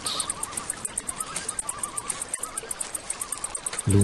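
Crickets chirp in a fast, steady pulsing rhythm, a dense chorus of shrill trills with a brief low sound at the very end.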